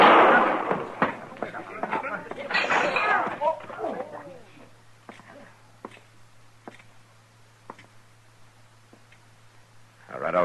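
A single gunshot effect from the Gunsmoke western radio drama, following shouting voices and then a series of sharp, evenly spaced cracks that fade into quiet before another burst near the end.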